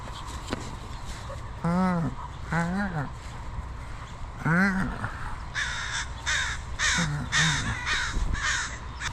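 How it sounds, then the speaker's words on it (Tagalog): Crows caw outdoors in a park by the Pacific, several harsh calls in short bursts of two or three, fairly close and loud over a steady background hum, with faint chatter from other birds. "Ayun, may mga crow."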